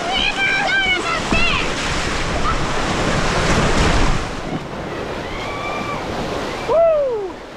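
Whitewater rushing on the Nantahala River during a kayaking run, a broad continuous roar of churning water, close and loud throughout, with whooping shouts and excited voices over it.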